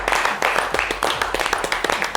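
Studio audience on a French-language talk show clapping for guest Adrienne Koutouan, a brief run of sharp hand claps with some talk mixed in.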